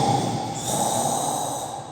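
A person imitates snoring with a long, rough, nasal snorting breath, close and fairly loud, held steadily for about two seconds and then fading.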